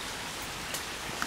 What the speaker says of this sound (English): Is that rain? Oh, rain.